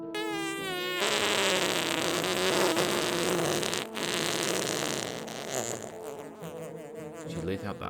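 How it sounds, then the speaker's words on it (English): A long, loud, buzzing fart sound effect, continuous and raspy for several seconds, layered with background music in a children's storytime setting. "She let out the largest fart W.E. had ever heard."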